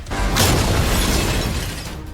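A bomb blows up in a film scene, with a loud booming blast and a shattering crash that rumble on for about two seconds before fading, and no voices.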